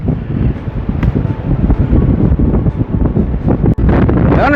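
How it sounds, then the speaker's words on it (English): Loud, continuous wind buffeting a microphone outdoors on a winter countryside walk, a dense roaring rumble with gusty fluctuations and a brief dropout near the end. "I honestly hope you can hear me with this wind."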